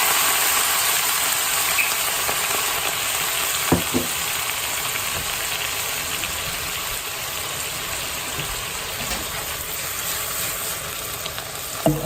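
Cooking wine hitting a hot pan while making tacos at home gives a steady, fairly loud sizzle that fills the whole clip, with a few sharp pops and crackles near the start and end and no talking.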